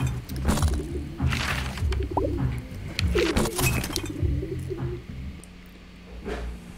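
A pigeon coos in The Godfeather, a comedic pigeon video game, its soft repeated calls sounding over busy game noise, thumps and clatter.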